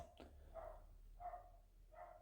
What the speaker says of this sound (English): got some maniac dog outside my house